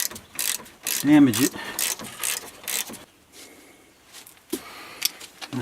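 Ratchet wrench clicking rapidly in several bursts while loosening the rear brake caliper bolts on a 2007 Jeep Wrangler Rubicon with failed rear brakes, close and loud metallic ratcheting, with brief speech near the end.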